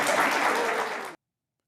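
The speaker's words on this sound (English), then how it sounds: "they're clapping and celebrating her" Audience applause, a dense burst of many hands clapping together that holds steady for about a second before cutting off abruptly into silence.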